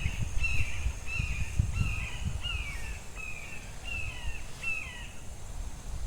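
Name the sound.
baby hawk (eyas) calling near a creek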